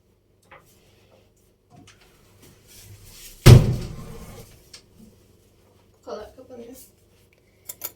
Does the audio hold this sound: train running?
no